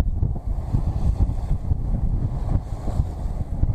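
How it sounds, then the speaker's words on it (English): Wind blowing outdoors at Laughlin, buffeting the microphone in a constant low rumble with gusty surges throughout and no voices. "The wind's a little chilly."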